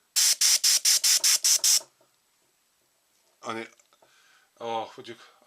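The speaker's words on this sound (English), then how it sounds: "I'm going to hook my air back up to my airbrush" Compressed air blasts through an Iwata Revolution CR airbrush in eight quick, evenly spaced hissing bursts. Silence follows, then a voice speaks twice.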